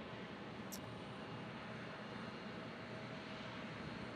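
A steady, fairly faint roar of an aircraft engine at Omaha Eppley Airfield, an unbroken broadband rumble that stays level throughout with no talking.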